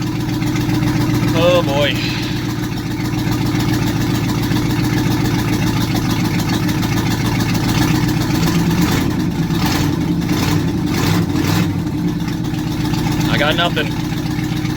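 A vehicle engine idles steadily throughout, a continuous low rumble close by, with people talking over it.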